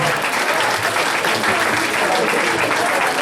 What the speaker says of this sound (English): The big round of applause for the baby girl.